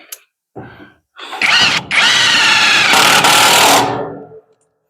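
A power drill bores a hole up close with a couple of short starts. It then settles into a loud, sustained whirring run of about two and a half seconds before stopping.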